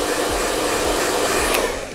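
A hair dryer blows steadily and loudly up close while hair is being dried and styled in a salon, a continuous roaring airflow with slight rhythmic wavering as it moves across the strands.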